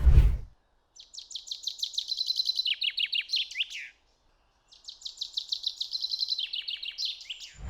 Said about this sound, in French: j'adore le chant du pinson